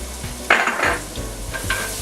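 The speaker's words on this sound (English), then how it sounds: "Just sweat the garlic." Garlic gently sweating in a hot pan for a chicken piccata sauce, a steady close sizzle with brief stirring scrapes and clinks from a utensil against the pan.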